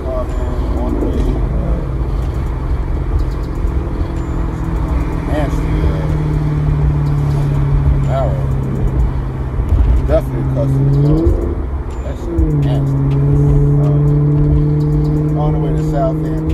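Steady engine drone and road rumble inside a moving Maserati GranTurismo, with the engine note rising and falling through gear changes, while someone talks over it.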